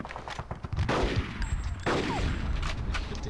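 A heavy weapon in the video game Conker's Bad Fur Day fires repeated loud bursts, one after another, over ongoing game noise.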